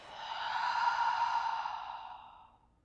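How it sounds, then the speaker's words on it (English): A long, deep breath pushed out through the mouth as a yoga class winds down, swelling and then fading over nearly three seconds, close and soft with a breathy hiss and no talk. "Complete exhale through the mouth."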